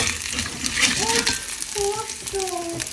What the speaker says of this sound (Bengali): আর যেহেতু নতুন কড়াই, ওই জন্য একটু একটু কিন্তু কড়াইয়ের মধ্যে লেগেও যাচ্ছে, আর এরা খসখস করছে